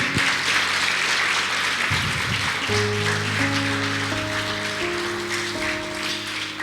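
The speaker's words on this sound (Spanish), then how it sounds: "Denles aplauso al Señor." A church congregation claps steadily throughout, a dense rain of hands that carries on while sustained instrumental notes rise in steps beneath it.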